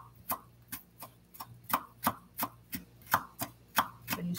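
An onion chopped by hand with a knife on a cutting board, about a dozen crisp, evenly spaced chops at a steady, unhurried pace, close and clear with no talking.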